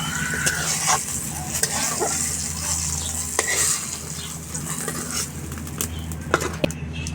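Eggplant slices sizzle and crackle steadily in hot oil in a pan for egg-and-eggplant cooking, with scattered scrapes and clinks as pieces are stirred and lifted out, continuous and fairly close throughout.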